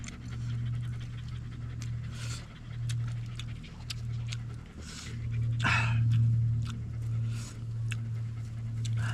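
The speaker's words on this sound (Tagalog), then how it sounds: "May aso naman kami dito, marami." A dog pants steadily and whimpers close by at a rural farm during outdoor cooking, with rhythmic breathing and occasional high whines, no talk over it.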